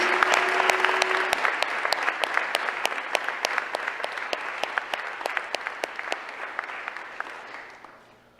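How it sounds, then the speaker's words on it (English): An audience at a school ceremony gives students a sustained round of applause, with a few sharp, distinct claps standing out from the crowd as the clapping gradually fades toward the end. "please join me in a round of applause for these students."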